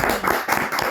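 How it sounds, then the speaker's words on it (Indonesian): An audience at an informal talk event claps together, making a dense, steady patter of hand claps that fills a short moment up close. "Tepuk tangan dulu."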